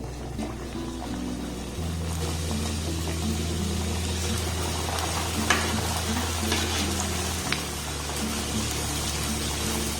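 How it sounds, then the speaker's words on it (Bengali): Potato-onion snacks drop into hot oil in a wok and deep-fry with a continuous dense sizzle and bubbling, steady throughout, over a low background hum. "এবার এই সুন্দর করে বানিয়ে নেওয়া নাস্তাগুলোকে তেলের মধ্যে আমি দিয়ে দেবো"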